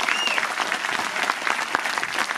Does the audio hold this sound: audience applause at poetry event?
yes